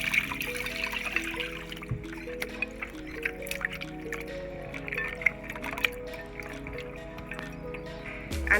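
Soya beans swished and rinsed in water by hand at home, with soft continuous trickling, dripping and sloshing throughout, fairly close and moderately quiet.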